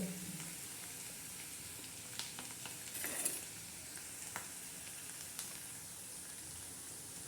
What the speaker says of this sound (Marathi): आपण चांगला तडका देत आहोत